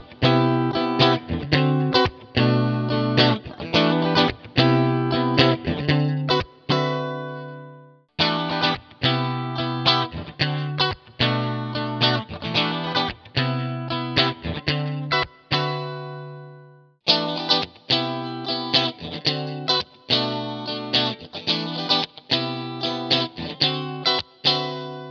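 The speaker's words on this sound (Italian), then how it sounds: "Vi faccio sentire qualche suono degli amplificatori clean" Electric guitar played through the clean amplifier simulations of a Boss IR-200 amp and cab simulator, with chorus and delay-like effects: plucked notes and arpeggiated chords in three phrases separated by brief pauses, close and alone.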